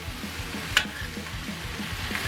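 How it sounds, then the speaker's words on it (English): Mushrooms and vegetables stir-fried in a hot pan for moo goo gai pan give a steady close sizzle with a brief clatter of stirring partway through. "We're going to throw in the mushrooms. Lots of mushrooms. Stir fry them around in there."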